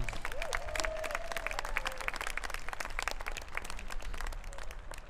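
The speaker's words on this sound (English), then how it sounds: "one more round of applause, please" Audience applause for a jazz improvisation class performance, many hands clapping steadily throughout with a faint tonal whistle or hum briefly riding above the crowd noise.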